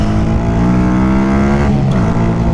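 Masai Greystone 125 motorcycle engine and exhaust running steadily and loudly up close, a continuous deep rumbling drone that rises slightly in pitch near the end.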